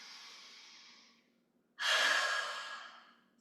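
Two audible breaths during yoga practice: a soft, airy exhale that fades out, a brief silence, then a louder, close nasal inhale that tapers off.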